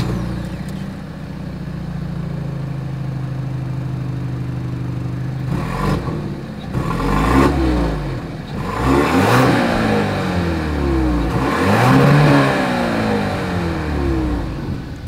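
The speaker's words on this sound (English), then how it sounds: "As always, here is that exhaust clip." A 2023 Genesis GV80 SUV idles with a steady exhaust rumble, then is revved repeatedly in the middle and later part, each rev swelling and dropping back, close and clear with no voices.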